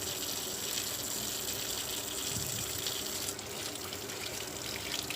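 Tap water gushes steadily over fresh raspberries and blackberries in a sink, a continuous close splashing rush with no talk.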